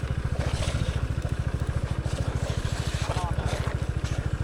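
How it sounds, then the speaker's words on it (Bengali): Motorbike engine idling with a rapid, steady pulsing thrum as it is eased down a steep, rough mountain trail on the Tindu route in Bandarban, close and continuous, with faint scraping and clatter over it. "উনি আমার বাইকটা নিচে নামাচ্ছেন এখন"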